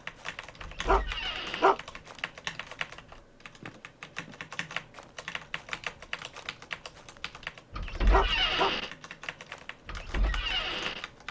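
Hungry dogs in the survival game Unreal World bark in short bursts a few times, under constant clicking of a computer keyboard.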